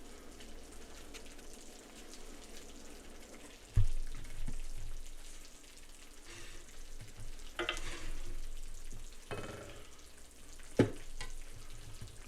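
Hot dog buns toasting in a buttered pan give a continuous low sizzle, broken by a few sharp knocks and scrapes of the pan and spatula, close and moderately quiet.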